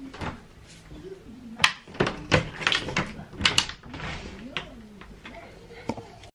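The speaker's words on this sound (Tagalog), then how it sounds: "May kumakatok." Someone knocks on the door of a home: a few irregular, hollow thuds spread over several seconds, mixed with people talking nearby.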